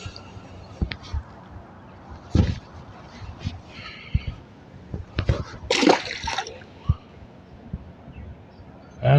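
A small freshwater drum is released by hand into the water at a riverside park, giving a few brief, scattered splashes and slaps at close range amid quiet background noise.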